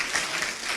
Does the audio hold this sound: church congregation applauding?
yes